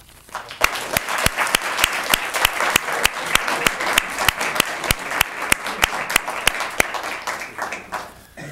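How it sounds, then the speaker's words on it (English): A high school poetry recitation contest audience claps for the contestants, a sustained, close round of crisp, evenly paced applause with sharp individual claps standing out over the crowd. "And I want to have a round of applause for all of the contestants."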